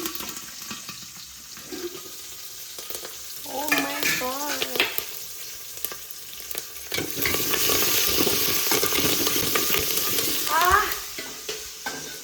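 Garlic, green chili and curry leaves fry in hot oil in a pan, a steady crackling sizzle with bursts of stirring and spattering that swell louder partway through.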